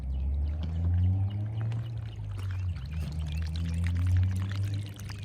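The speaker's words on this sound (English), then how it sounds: "This water runs a lot." Water runs steadily from a newly installed pre-drain, a continuous gurgling, pouring flow with a low resonant hum under it, heard close and unbroken for about five seconds.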